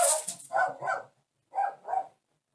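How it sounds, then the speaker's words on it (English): A female dog barks at home in two close pairs of sharp, fairly loud barks with a short silence between them and no other sound. "my dog has stopped barking, but I guarantee you, as soon as I get back into this, she'll start barking again"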